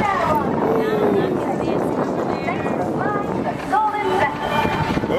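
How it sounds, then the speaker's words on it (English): Gusty wind buffets the microphone in a constant low roar at Disneyland, with voices talking faintly through the noise. "Is it windy? It's windy."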